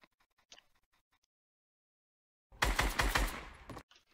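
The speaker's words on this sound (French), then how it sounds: "Là, shoot sur un zombie." Gunfire from a Fortnite-style building game as a player shoots at a zombie: a dense, loud burst of rapid shots lasting about a second after a quiet stretch with faint clicks.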